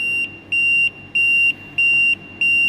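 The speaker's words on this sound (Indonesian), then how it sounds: "karena waktunya habis, maka alarm akan berbunyi dan lampu stop menyala" Timer alarm on an Arduino Nano smart drying oven beeping once its time runs out, a loud, steady high-pitched tone repeating in even on-off bursts about every half second, with no talking over it.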